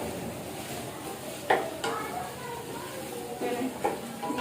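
Mutton frying for pulao in a pot, a soft steady sizzle with a few scraping stirs and clinks of a utensil against the pot, fairly quiet.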